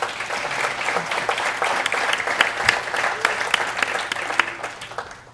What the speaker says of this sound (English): Please give our nominees a round of applause.